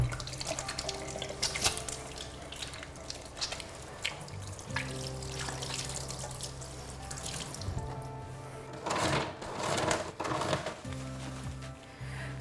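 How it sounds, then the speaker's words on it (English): A tap runs steadily into a sink during hand washing before preparing a baby's bottle, with splashing and rubbing as the hands move under the flow, close and moderately loud, with the stream briefly shifting near the end. "it's really important that you wash your hands before preparing your baby's bottle."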